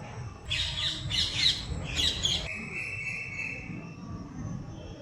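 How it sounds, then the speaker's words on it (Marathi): Parrots let out a quick run of harsh, loud squawks over steady outdoor background noise, then a long, thin high-pitched tone trails off. "पोपट पण वरडा लागले"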